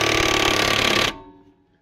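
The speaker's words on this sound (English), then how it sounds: "I have the impact, the Milwaukee, and I've got it set on number 3. Okay. And we're gonna tighten this bolt up." A Milwaukee impact wrench set to speed 3 tightens a bolt on a 2013 Jeep Wrangler harmonic balancer, a loud, fast rattling hammer burst lasting about a second before cutting off abruptly and ringing down.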